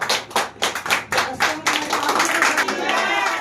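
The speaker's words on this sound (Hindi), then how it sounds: "ताली बजा के धन्यवाद करो परमेश्वर।" A church congregation at a Friday prayer meeting claps hands in thanks, a burst of loud, ragged clapping starting with separate slaps and quickly merging into dense, continuous applause close by.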